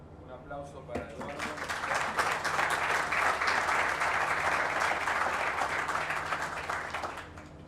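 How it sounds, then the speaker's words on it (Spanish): A conference audience applauds a speaker named Eduardo at a talk on productivity in semi-arid environments, steady broadband clapping from many hands that swells and holds for several seconds, moderately near, with faint voices mixed in. "Un aplauso para Eduardo."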